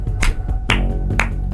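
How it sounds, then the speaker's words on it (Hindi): Three sharp hand claps ring out at a slow, uneven pace, each a crisp close slap over a faint musical background. "मैं ताली बजाने लगा।"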